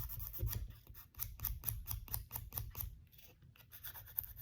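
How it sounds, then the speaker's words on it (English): A nail buffer rasps over nails to rub off glue in quick, close, soft repeated strokes with short pauses, and no one talks. "Get the glue a little bit off with the rougher."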